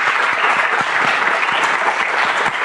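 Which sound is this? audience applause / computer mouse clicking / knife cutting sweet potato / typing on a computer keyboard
audience applause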